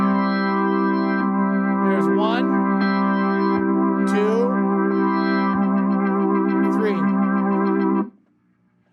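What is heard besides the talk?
Hammond organ vibrato effect settings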